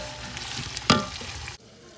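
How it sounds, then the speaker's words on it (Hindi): Onions for dal fry loudly in a hot pan, a dense crackling sizzle with one sharp spoon scrape before the sound drops off abruptly. "तो प्याज को हम लोग जो है वो फ्राई कर लेंगे।"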